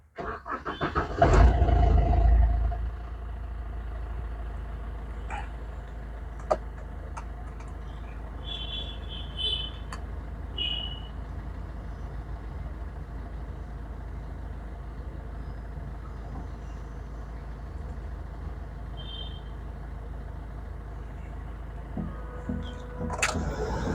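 A 2009 Maruti Swift VDI diesel car engine idles steadily at moderate level, with a few faint clicks and a brief louder burst near the start.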